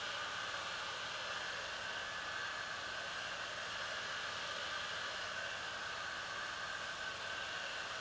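A heat gun blows hot air onto an ATV seat cover, a steady, even whooshing hiss that stays constant and fairly faint throughout, with no talk.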